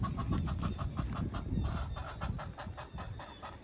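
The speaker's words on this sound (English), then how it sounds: "hear that chicken?" A chicken clucks repeatedly in short, rhythmic bursts, fairly close, with a low rumble of background noise and no talking.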